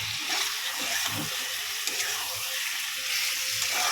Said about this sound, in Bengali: আলুগুলো দিয়ে একসঙ্গে কষাই।